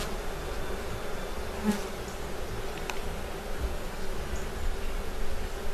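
Honeybees buzzing around beehive frames, a soft steady hum of many insects with occasional louder passes near the listener.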